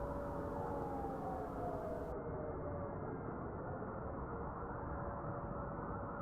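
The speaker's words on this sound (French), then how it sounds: "Les sirènes et les cris des manifestants se répondent dans les rues" Sirens wail across Paris streets in the Latin Quarter during a protest, a distant, sustained tone gliding slowly downward over a constant broad rumble of city noise.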